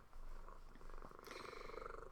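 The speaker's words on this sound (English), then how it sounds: "And Piper is purring away here" Pet cat Piper purring close by in a quiet indoor room, a soft steady rumbling that runs continuously, with no voices.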